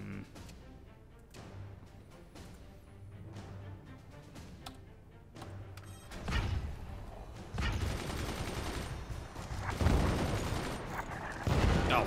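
Machine gun fire rattles in the Forts multiplayer game, quiet rapid bursts at first that swell into dense, loud continuous fire with explosions mixed in.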